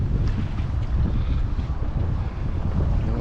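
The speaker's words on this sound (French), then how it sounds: "Écoutez le bruit de l'eau, si vous entendez à cause du vent." Water at Lac de Cavayère washes under a heavy buffeting wind rumble on the microphone, steady and broadband with no voices.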